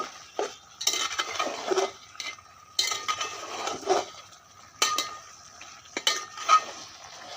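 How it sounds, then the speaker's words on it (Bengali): Fried capsicum, potato and eggplant are stir-fried in a pan for a beef or mutton tripe dish, with intermittent scraping and clinking of a spatula against metal and light frying underneath. "এতে এবার এই ক্যাপসিকাম, আলু আর বেগুন ভাজে রেখেছিলাম যেটা দিয়ে দেব। দিয়ে ভালো করে একটু কষিয়ে নেব।"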